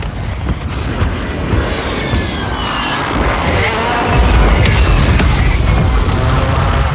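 Airstrike in the video game Warzone Resurgence on Rebirth Island: a loud, sustained roar of jets overhead blending into rumbling explosions that swell and grow heavier toward the end, with no voices.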